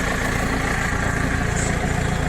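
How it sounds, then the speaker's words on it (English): A tractor fitted with a subsoiler idles steadily at close range, a loud, even low engine rumble with no talking. "here we possess the tractor"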